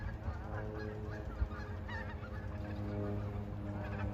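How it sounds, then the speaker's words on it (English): Trumpeter swans honk at a migratory bird sanctuary in Fairbanks, Alaska, a few faint, distant calls over a low, steady outdoor rumble. "Trumpeter swans, I think."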